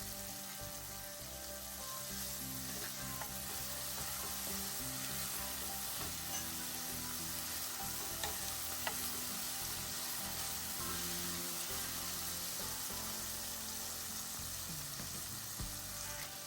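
Onions frying and stirred in a pan for a Bengali puffed-rice dish, a steady close sizzle with occasional scraping stirs throughout, no talking.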